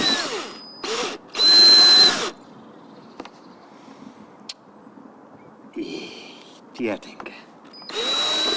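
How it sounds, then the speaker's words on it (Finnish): A power drill whines in a few short bursts through a van wall, the longest about a second, with brief speech and rustling in between and quiet background. "Sitä kannattaa porata teoriastaan boksin läpi suoraan."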